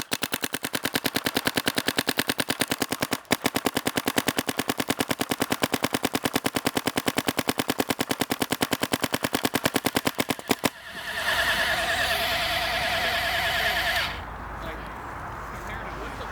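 Valken Code paintball marker firing a long rapid string of sharp evenly spaced pops for about ten seconds, near and loud, then stopping as outdoor noise and voices follow.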